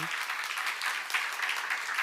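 Audience members at a church seminar break into brief, fairly soft applause, a continuous patter of clapping lasting a couple of seconds.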